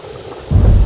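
A sudden heavy thunderclap rolls in halfway through, loud and low, over a steady wash of stormy rain.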